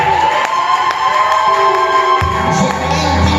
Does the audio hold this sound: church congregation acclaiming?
yes